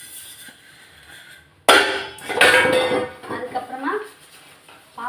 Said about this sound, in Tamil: இந்த பாருங்க, ஒரு 5 பாத்திரத்தை கழுவி ஜிங்க் கொஞ்சம் ஃப்ரீ ஆக்கிட்டேன்.